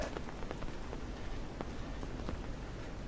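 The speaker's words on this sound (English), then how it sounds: "So we got hit by 2 bands of rain." Rain band from Typhoon Merbok at Victoria Peak in Hong Kong, a steady dense hiss of rainfall with scattered patter of drops, continuous and moderately faint.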